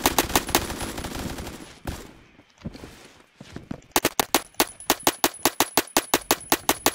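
Semi-automatic SKS rifle firing in the shooter game Phantom Forces: a burst of sharp shots, a brief lull with quieter clatter, then a fast steady string of about fifteen loud close cracks.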